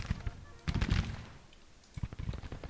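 Infantry volleys against an artillery battery in Grand Tactician: The Civil War crackle as two bursts of massed musket fire at a moderate distance, separated by a short lull.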